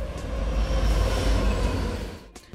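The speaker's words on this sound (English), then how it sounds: "we'll search for a train pass sound" A train passes as a sound effect, a steady loud rumble of rail wagons that holds for about two seconds, then drops away as it clears.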